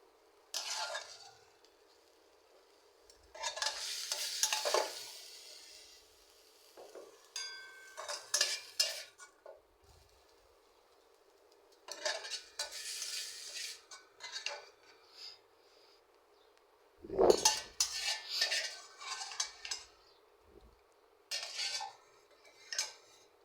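Metal spatula scraping and clinking against a wok as fried vegetable bhaji is lifted out, coming in irregular bursts of scrapes and taps separated by quiet pauses, close and clear with no talk.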